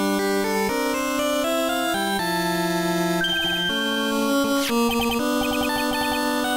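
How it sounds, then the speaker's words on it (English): A theme playing as a phone ringtone in the Phoenix Wright: Ace Attorney – Trials and Tribulations game, a bright synth melody of stepping tones that runs steadily and loudly throughout, with no voices over it. "What kind of ringtone is that?"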